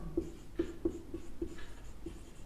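Chalk tapping and scraping on a board during a Hindi-language math lesson, in a steady run of about six short, sharp taps spaced roughly half a second apart, close and fairly quiet in a small room.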